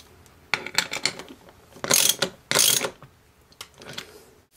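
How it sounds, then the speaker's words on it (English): Socket wrench tightening a bolt into a threaded aluminum plate, with a series of close ratcheting clicks in short bursts, two of them longer and louder, then a few lighter clicks as it finishes. "tighten it using a socket wrench"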